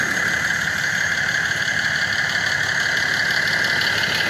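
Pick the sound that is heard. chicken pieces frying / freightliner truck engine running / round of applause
freightliner truck engine running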